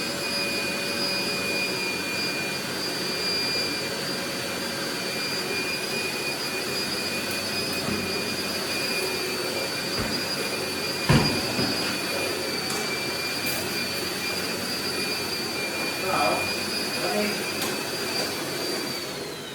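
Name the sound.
vacuum cleaner running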